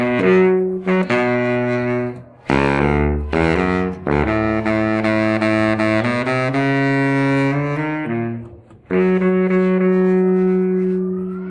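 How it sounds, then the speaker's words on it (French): A baritone saxophone plays the grandfather's low, grumbling theme in a staging of Peter and the Wolf, with sustained notes and short phrases separated by brief pauses, loud and close. "Écoutez le son grave du grand-père qui bougonne dans sa barbe."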